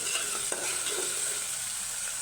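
Whole spices, cardamom and cloves, fry in hot oil in a pan for a beef kebab, a soft steady sizzle with a faint stir or scrape near the start, close and fairly quiet.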